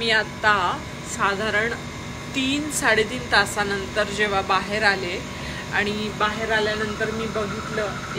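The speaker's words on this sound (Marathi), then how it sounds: "एसीचा आवाज खूप येतोय" An air conditioner runs loudly indoors, its constant droning hum sitting under someone talking throughout.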